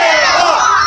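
Children at a Lviv festival crowd shout loudly together on cue, a dense, sustained roar of young voices with no gaps.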